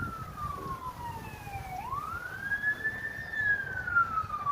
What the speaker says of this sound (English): you can hear fire trucks and ambulances in the back